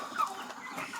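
Chickens being moved out to pasture give soft, scattered clucks over a steady bed of farmyard noise, fairly close and at moderate loudness.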